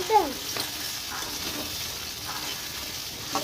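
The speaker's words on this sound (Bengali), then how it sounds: "চিংড়ি মাছ ভাজা ভাজা হয়ে গেছে" Prawns fry in a pan with a steady, close sizzle, with a few soft stirring scrapes against the metal.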